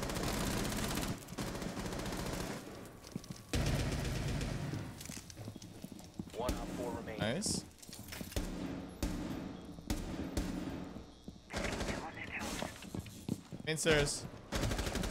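Gunfire from a gun in a first-person shooter video game, repeated sharp bursts and rapid shots spread across the stretch, close and loud, with a player talking briefly between them.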